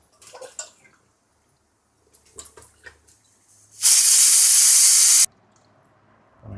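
Running tap water gushes over bell peppers being washed in a home kitchen, a loud steady hiss lasting about a second and a half, framed by light clinks and handling noises.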